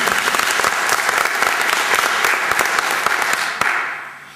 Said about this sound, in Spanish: Un aplauso para Ángel Muñiz.